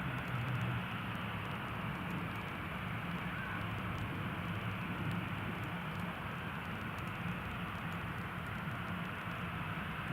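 An EasyJet Airbus A320 jet airliner, flying from Amsterdam to Edinburgh, passes overhead near Newcastle International Airport as a steady, broad engine roar that holds fairly level throughout.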